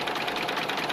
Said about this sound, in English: This steam engine is believed to be the only one of its size still operating anywhere in the world.